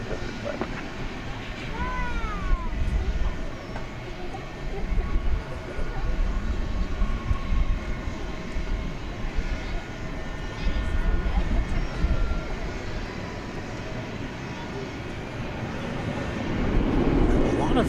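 A jet airliner takes off at night from runway 18 left at DFW Airport, its engine roar building in a long steady rumble under intermittent talk.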